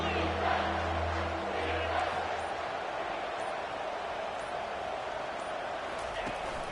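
A football stadium crowd roars during a big third-down play, a steady, distant wash of cheering that holds throughout.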